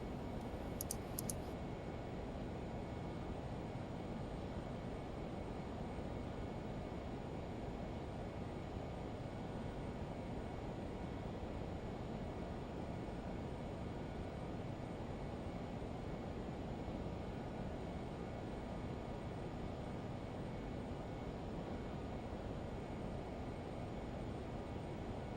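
Boeing 747-200 airliner engines in the X-Plane flight simulator produce a faint, steady, even drone that runs unchanged from start to end with no talking.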